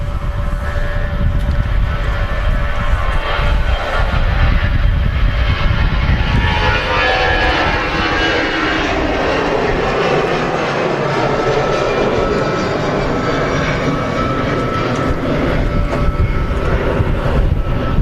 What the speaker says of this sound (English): are they Pratt & Whitneys on that? Because it sound like it.